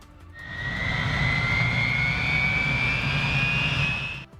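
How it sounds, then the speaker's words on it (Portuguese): A K-MAX unmanned military logistics helicopter engine gives a loud, sustained turbine whine with a slowly rising pitch over a broad rumbling roar, close and steady throughout. "o helicóptero não tripulado que está mudando o jogo para a logística militar"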